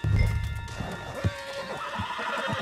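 A horse in the Red Dead Redemption 2 video game whinnies loudly up close while its hooves clip-clop at a gallop, with a low rumble and game ambience underneath.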